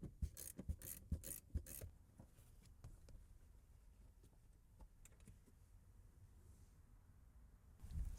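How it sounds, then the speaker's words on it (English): Ratchet wrench turning 14 mm seat bolts in an Infiniti G37, quick bursts of close, dry clicking at the start, then quieter scattered ticks and handling noises. "Now I'm gonna remove those two bolts."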